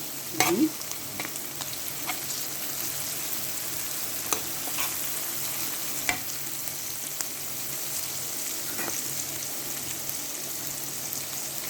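Bessara of crushed fava beans with dried coriander simmers and fries in a pan, giving a soft, steady sizzle with occasional faint clicks and stirs, quiet and alone.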